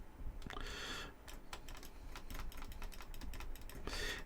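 Rapid computer keyboard typing during a game, a dense run of sharp, irregular key clicks close to the listener, heard alone with no talk.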